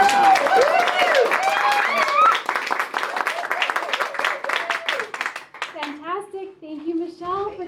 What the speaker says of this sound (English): Another round of applause for Michelle.